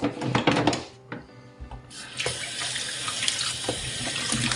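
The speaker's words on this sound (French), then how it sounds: "Allez, rincer, hein, parce qu'elles sont fortes en tanin par contre" Peeled vegetables rinsed under a running kitchen tap, a strong close stream of water splashing into a sink, briefly interrupted and then flowing steadily, with faint rubbing and handling noises.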